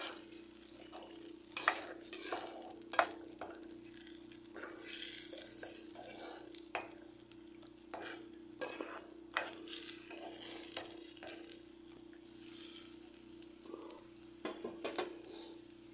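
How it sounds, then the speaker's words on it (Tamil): Coriander leaf chutney cooking in a pan, stirred with a utensil: faint, steady sizzling under intermittent scraping and clinking of a spoon against metal, with no one talking. "அப்படியே கிண்டி விடலாம்"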